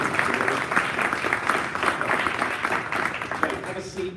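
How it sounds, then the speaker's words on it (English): An audience at a corporate learning event opening gives a round of applause as a guest comes on stage, dense steady clapping that fades near the end, with someone speaking over it. "Give him a big round of applause."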